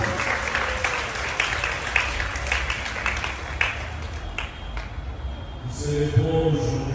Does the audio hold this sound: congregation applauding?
yes